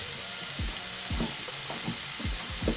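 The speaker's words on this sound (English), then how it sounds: "we're going to keep that on the skillet and let it saute" Tortellini sauteing in a hot skillet give off a steady close sizzle and fry hiss, with a few soft stirring scrapes recurring through it and no voices.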